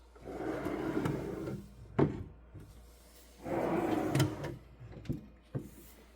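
Push-to-open Formica drawers in a Ford Transit van kitchen slide open and shut twice, each long rumbling slide ending in a sharp knock, with a few lighter clicks between.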